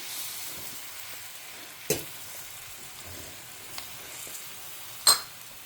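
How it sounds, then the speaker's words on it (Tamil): Brinjal pieces softening in a pan for a spicy tamarind curry, a quiet steady sizzle with two sharp clinks of a utensil against the pan, one early and one louder near the end. "கத்திரிக்காய் இது கொஞ்சம் வதங்கட்டும்"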